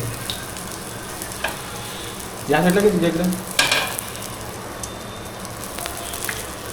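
A bread omelette sizzling on a griddle pan gives a steady frying hiss, with a voice speaking briefly over it midway.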